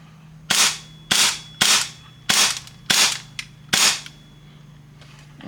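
An ESHOOTER Flare Cube laser tag tracer gives six sharp, bright bursts in an uneven rhythm, each a quick crack with a short decaying hiss, close and loud over a faint steady electronic hum.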